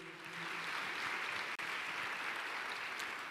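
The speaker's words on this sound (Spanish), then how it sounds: "Puedes darle otro aplauso de gratitud a Dios." A church congregation applauds in gratitude to God, a steady, diffuse wash of clapping that holds evenly.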